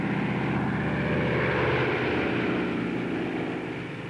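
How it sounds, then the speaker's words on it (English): C-47 Skytrain tow planes, gliders hitched behind, taxi at full throttle with a loud, continuous propeller-engine roar that stays close and steady throughout, easing slightly toward the end. "Taxiing at full throttle, the tow planes had to remain on the ground until the ton-and-a-half gliders were airborne"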